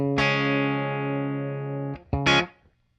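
A clean electric guitar chord with no reverb rings out dry and sustained, then is cut off and followed by a couple of short strummed chords.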